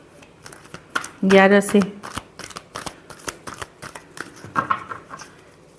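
Tarot cards shuffled by hand in quick papery bursts and riffles, with a loud flurry near the start and softer shuffles later, while a person speaks throughout.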